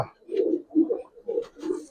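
Young Giribaz pigeons coo close by in a series of four soft, low, rounded calls with short gaps between them, and no talking over them.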